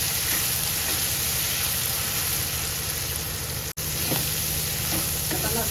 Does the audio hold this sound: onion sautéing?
yes